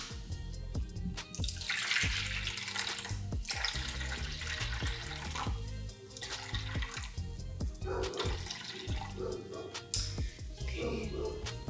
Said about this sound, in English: And I'm gonna get my filtered water.